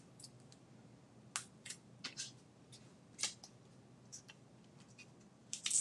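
Scissors snip through patterned paper during card making, a series of faint, crisp cuts in irregular rhythm, close to the listener in a quiet room.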